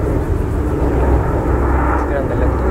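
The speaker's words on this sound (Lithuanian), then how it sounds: "Skrenda lėktuvas." A fixed-wing airplane passes overhead above a city river fishing spot, a broad steady engine drone that fills the short stretch at moderate loudness.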